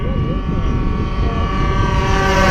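A radio-controlled 20cc model warbird airplane flies by overhead, its small engine droning loud and steady with a rising pitch shift as it passes near, while someone talks quietly underneath.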